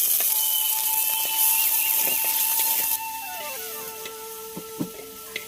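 Chopped onion hitting hot white oil in a pot, a steady loud sizzle and hiss with a thin whistling tone running through it and a few soft clinks near the end.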